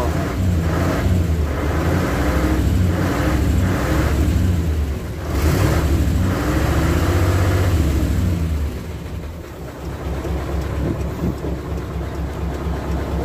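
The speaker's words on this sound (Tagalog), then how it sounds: "Butas yung tambutso nito. Maingay eh." A manual six-speed dump truck in as-is condition runs with a holed exhaust, a loud, close, rough droning rumble that swells and rises in revs before settling lower near the end.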